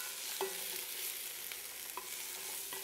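Vegetables for split pea soup sizzle steadily in a hot pot, with a few distinct stirring scrapes and clacks breaking through the constant frying hiss; no voices.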